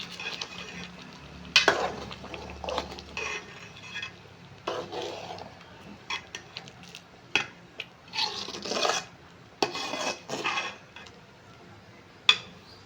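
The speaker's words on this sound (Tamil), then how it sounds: "புளி தண்ணி ஊற்றிட்டு கொஞ்சம் கிண்டி விட்டுக்கலாம்" A spoon scrapes and stirs through thick sambar in a metal pot in uneven bursts, with soft clinks against the sides and no talking.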